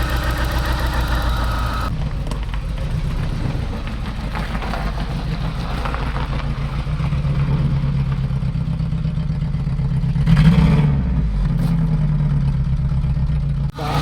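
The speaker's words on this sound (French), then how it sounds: "Là, elle tourne sur ses 4 cylindres là." A 1990s-style Opel Calibra 2.0 eight-valve engine idling steadily on all four cylinders, a close, continuous low rumble with a slight rise in revs near the end, no talking over it.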